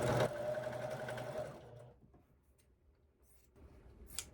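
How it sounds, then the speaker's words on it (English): Sewing machine joining quilt strips together runs in a close burst for about a second and a half, a steady mechanical whir, then stops to quiet handling noises and a faint click. "You just sewing strips together."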